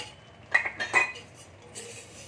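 A spoonful of sugar is tipped into a bowl of undhiyu masala mix with lemon juice, giving a few close, light clinks of a metal spoon against a dish followed by a soft scrape, with no talking.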